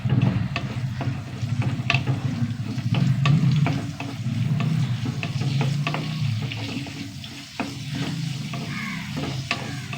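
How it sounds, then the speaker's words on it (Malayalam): Chilies fry in oil in a pan with a steady, close crackling sizzle and occasional clinks from stirring, continuous throughout. "ഇതൊന്ന് വറുത്ത് വരട്ടെ"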